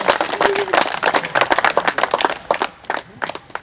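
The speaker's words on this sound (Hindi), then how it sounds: "तालियां करनी होनी चाहिए" An audience at an outdoor Holi stage event with a CRPF contingent applauds a female poet coming onto the stage, giving loud, steady, close clapping with some voices mixed in.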